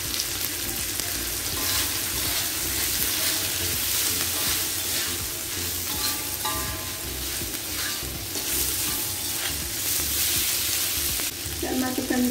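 Carrots and chili sizzle steadily in a hot pan, a constant close frying hiss with occasional stirring scrapes and a brief splash of water or sauce near the end.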